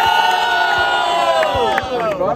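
A crowd at a Brazilian rap battle semifinal cheers and whoops loudly for the rapper, a dense, sustained roar of voices with shouted calls rising above it throughout.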